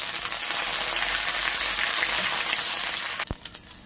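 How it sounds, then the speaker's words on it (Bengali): Crushed ginger frying in hot oil with dried red chillies and panch phoron, a steady loud sizzle that fills the clip and then drops away near the end with one short knock. "সাথে দিয়ে দেবো থেতো করে রাখা আদা।"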